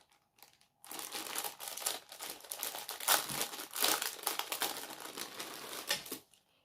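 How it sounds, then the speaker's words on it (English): A beaded necklace with a gold chain comes out of its packaging: a few quiet crinkles, then several seconds of loud, close plastic crackling and rustling that stop abruptly. "Let's take it out of the packaging and I will show you guys."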